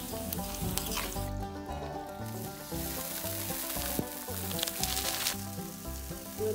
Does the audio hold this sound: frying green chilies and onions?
yes